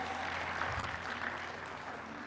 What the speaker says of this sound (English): Please give another big round of applause to all the winners and all the nominees.